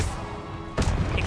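A Confringo spell blast from the Hogwarts Legacy video game: a sudden loud burst after a quiet, hissing stretch, followed by a rumbling boom and a brief echo tail.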